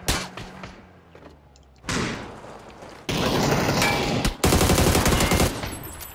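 Video game gunfire rattles in loud, dense automatic bursts separated by abrupt cuts, growing heavier toward the end.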